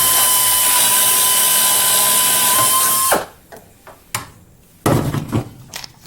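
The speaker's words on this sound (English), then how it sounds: "Go back with the drill," A power drill whines steadily while boring a hole in an aircraft wing spar during a Bearhawk build, then stops, leaving a few short bumps and clatters of tool handling.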